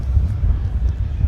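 Strong wind buffets the microphone at an outdoor football stadium during a match, making a constant low rumbling roar that surges and dips with the gusts.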